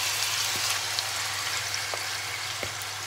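Marinated chicken frying in oil in a pan over a low flame, giving a steady, even sizzle with faint crackles and a few soft pops throughout, close and unbroken.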